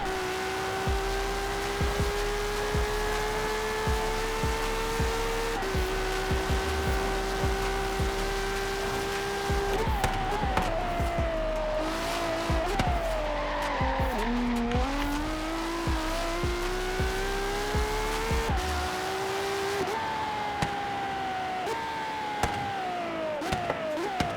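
LaFerrari, a 2013 Italian hybrid hypercar in Forza Horizon, races with a loud continuous engine note rising and falling through gear changes, with tire squeal and skidding as it corners, no talk over it.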